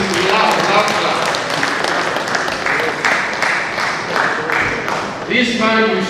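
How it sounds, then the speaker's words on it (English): Audience applause in a hall at a Nigerian Bar Association law week event, sustained clapping from a crowd lasting several seconds, fairly loud and steady throughout. "Can we clap, please? Loud."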